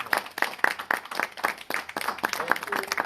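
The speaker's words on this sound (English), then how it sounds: "I would like you to applaud him, please." Audience at an Arya Samaj gathering on Long Island applauding, close, loud and fairly rhythmic clapping with distinct repeated hand strikes throughout the few seconds.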